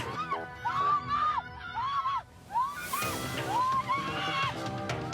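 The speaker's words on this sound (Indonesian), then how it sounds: "Penumpang mobil pun berteriak histeris." Car passengers screaming hysterically during a May Day demonstration, after black-clad men smash the car's rear window; repeated high wailing cries rise and fall over crowd noise.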